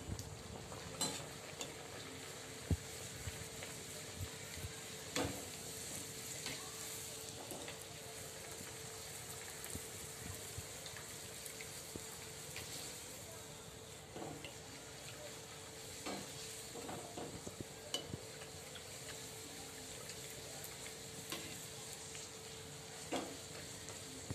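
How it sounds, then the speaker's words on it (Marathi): Karanji and kanole deep-fry in hot oil as a naivedya offering for Yellamma Devi near Belgaum, a continuous bubbling sizzle with scattered sharp crackles and pops throughout. "आपले कानोले आपल्या करंज्या तळून घेऊया आपण"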